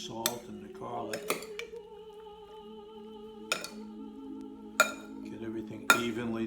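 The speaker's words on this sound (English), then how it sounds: "we'll stir it up to get all the peppers coated with the olive oil and the salt and the garlic" A spoon stirs flame-roasted peppers with olive oil, salt and garlic in a bowl, with a few sharp clinks and scrapes at intervals over a quiet, steady background.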